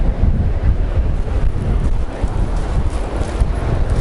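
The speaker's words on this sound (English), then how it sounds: "so you can see the waves" Strong wind buffets the microphone at a beach on a very windy February day, with ocean surf rumbling continuously beneath the gusts and no voices.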